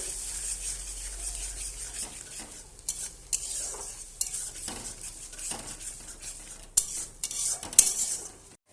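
Ground spinach being sautéed in a pan for palak paneer: a spoon scrapes and stirs steadily against the pan over a soft sizzle, with a few sharper clinks near the end and no talking.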